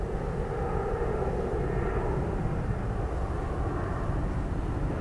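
An airliner climbs away after an aborted approach at Dublin Airport in low visibility, a steady broad jet roar at moderate distance holding constant without break.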